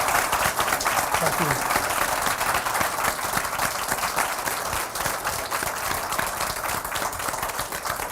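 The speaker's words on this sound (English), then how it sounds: "can we give a round of applause" An audience gives steady, sustained applause for a guest speaker at a talk, a dense wash of clapping while a voice briefly speaks over it.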